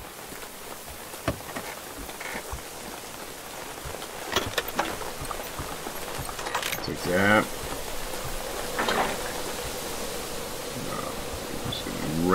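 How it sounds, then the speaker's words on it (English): Steady rain falls in the video game Generation Zero as a constant hiss through the whole stretch, with a few brief sharper sounds on top and a person talking over it now and then. "It's raining out here."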